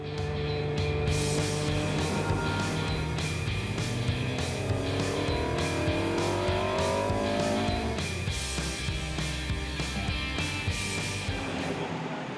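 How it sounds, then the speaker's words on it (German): A Volvo 240 Turbo race car's engine roars steadily at high revs close by on a racetrack, its pitch climbing and dropping through gear changes, with a brief tire screech. "Auf der Rennstrecke hält sich Martin die ersten 2 Runden noch zurück"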